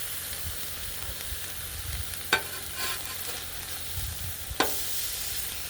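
Steak sizzling on a flat-top griddle, a steady hiss with a couple of sharp spatula scrapes and clacks, close and alone without talk.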